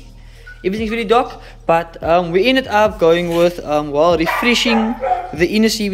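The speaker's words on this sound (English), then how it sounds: "Apologies for the dog barking there." A dog barks and whines in the background while someone talks about a motorcycle suspension refresh, the yips and barks mixing with and partly masked by his speech.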